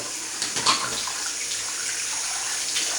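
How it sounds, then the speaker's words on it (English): Hot water runs from a tap into a bathroom sink, a steady close hiss and splash with no voices. "we're going to fill our sink with hot water"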